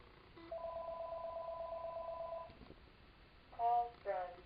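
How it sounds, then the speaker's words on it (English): An office desk phone rings with a steady electronic tone for about two seconds, then goes quiet, and a person speaks briefly near the end. "The phone's ringing."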